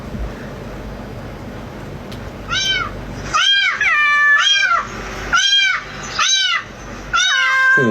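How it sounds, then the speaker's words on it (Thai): Recorded cat meows play from a phone speaker, a run of about six bright, tinny mews in quick succession after a quiet start, with no talking over them. "ปกติถ้าเปิดเสียงแมว แมวจะต้องหาใช่ไหมครับ ว่าเสียงมันอยู่ที่ไหน"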